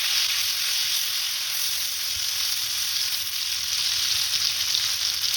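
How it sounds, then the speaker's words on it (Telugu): Chopped chillies, carrot and tomatoes fry in a pan for a red sauce pasta masala. A steady, loud sizzle runs without a break from start to finish, with no voices. "కొంచెం క్యారెట్ తరుగు, అలాగే 2 టమాటాలు చిన్న ముక్కలుగా కట్ చేసి వేసుకోవాలి."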